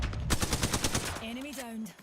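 Rapid machine-gun bursts from a first-person shooter game ring out loudly for over a second, then give way to a short tonal in-game cue; an automated game voice is heard just around the firing.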